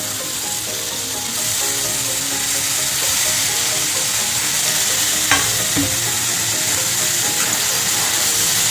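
Boiled banana flower stir-fried in a pan with tomato for a coconut-and-prawn mocha ghonto, a steady loud sizzle with spatula scrapes and a sharp clatter near the middle, no talking.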